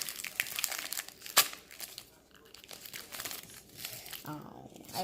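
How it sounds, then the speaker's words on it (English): Foil wrapper of a Pokemon Crimson Invasion booster pack being torn open, with crinkling and a sharp rip near the start, followed by softer rustling; close and moderately loud with a voice talking over part of it. "So the next pack we will be opening is a Crimson Invasion."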